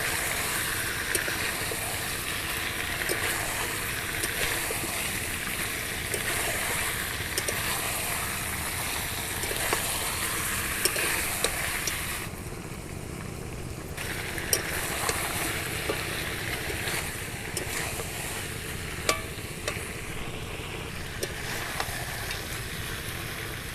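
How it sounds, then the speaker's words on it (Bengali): Chicken and fried potatoes are stir-fried in a pan for a chicken curry, with a continuous loud sizzle and frequent scraping stirs, dipping briefly midway before resuming. "দিয়ে আবারও আমি 10 মিনিট ভালো করে কষিয়ে নেব।"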